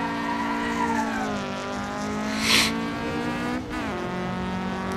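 Toyota 4AG-engined car drifting in Assetto Corsa: loud, sustained high-revving engine whine with rising and falling pitch, a brief burst of tire squeal, and a quick rev dip and recovery.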